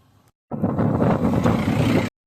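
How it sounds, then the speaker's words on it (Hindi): Strong wind with light rain outdoors in Nagaon, Assam, a loud, broad rushing roar lasting about one and a half seconds after a brief faint bit, then cutting off abruptly. "बहुत ज़्यादा हवा चल रहा है।"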